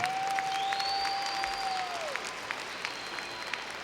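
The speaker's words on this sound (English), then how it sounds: "Please, a warm round of applause for all those who helped this graduation happen" A graduation audience at a 2018 high school ceremony applauds the people who helped make the graduation happen, a steady wash of clapping with a few whistles and cheers running through it.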